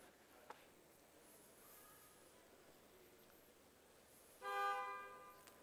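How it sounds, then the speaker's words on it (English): A car horn gives one short honk near the end, fairly loud above a quiet roomy background hiss in an indoor talk setting. "Thanks for the honk."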